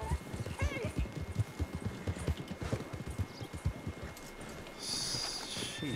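Rhythmic clip-clop of horse hooves plods steadily in Red Dead Redemption 2, with a short whinny early on and a brief burst of louder noise near the end.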